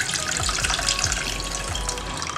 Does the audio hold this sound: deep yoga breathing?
no